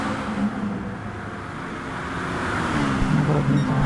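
GT2 race cars in Gran Turismo Sport at Red Bull Ring, engines droning steadily and building slightly louder as a car runs in the slipstream toward turn 1.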